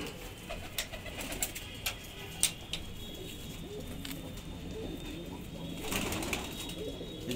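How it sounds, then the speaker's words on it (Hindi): Panjabi pigeons coo softly in a loft, low murmuring calls mixed with scattered clicks, rustles and wing flutters at close range. "खट्टी कच्ची कच्ची आंखों का कबूतर।"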